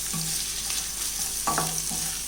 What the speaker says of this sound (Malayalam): ഇപ്പം ഇളക്കി മിക്സ് ചെയ്യാം